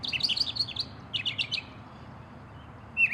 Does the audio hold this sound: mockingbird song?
yes